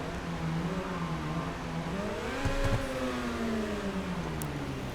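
A sports car engine in Grand Theft Auto 5, a Bestia GTS modelled on a Ferrari FF/GTC4Lusso, driven through a parking garage; its droning tone swells and falls through several revs at moderate level, with no talk.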